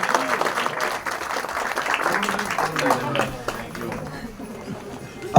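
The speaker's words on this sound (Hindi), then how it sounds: "जोरदार तालियां एक बार" Crowd applause at an outdoor Congress political event in Yamunanagar, a ragged, busy patter of clapping that holds for a few seconds and then thins out, with voices mixed in.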